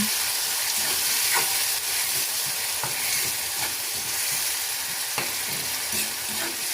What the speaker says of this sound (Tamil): இப்போது நாங்கள் அந்த தக்காளி எல்லாம் அரைச்சி வச்சுருக்கோம்ல, அதை சேர்த்துக்கலாம். நல்லா மிக்ஸ் பண்ணி விடுங்க.